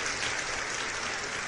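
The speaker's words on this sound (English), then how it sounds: "Give him a round of applause." Steady, dense applause from a livestream fitness show audience, continuous and fairly even throughout, with no speech over it.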